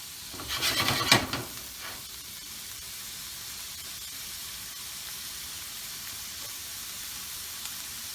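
Shrimp cooking in a carbon steel pan, opening with a loud burst of hissing steam and stirring, then settling into a faint, steady sizzle with no talk.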